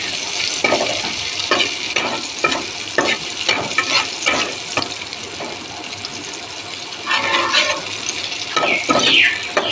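Onion frying in a pan sizzles at close range, broken up by repeated scraping stirs in an uneven rhythm, and the sizzle swells louder toward the end.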